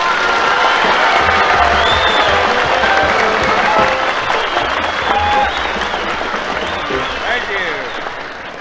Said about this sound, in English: let's make him welcome with a great big hand of applause